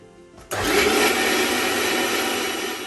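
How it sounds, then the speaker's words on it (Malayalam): A kitchen mixer grinder jar whirs loudly as it grinds grated coconut into a paste for a Kerala-style Ayala fish curry, kicking in abruptly after a brief quiet and running steadily, close and alone. "പേസ്റ്റായിട്ട് മിക്സിയുടെ ജാറിൽ വെച്ച് അരച്ചെടുക്കാം."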